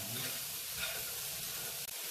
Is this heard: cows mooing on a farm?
no